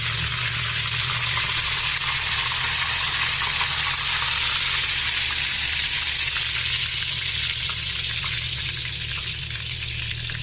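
Very hot oil sizzling steadily in a pan, a dense, even hiss at close range that barely changes over several seconds, with no voices.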